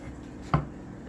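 A single crisp knife chop on a cutting board while vegetables are cut for a roasted veggie bowl, one short isolated thud over quiet room tone.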